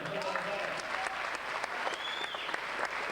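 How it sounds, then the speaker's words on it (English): Audience at a 1990s Australian bodybuilding physique contest applauding, a steady dense clapping from a crowd with an announcer speaking over it. "Big round of applause, ladies and gentlemen."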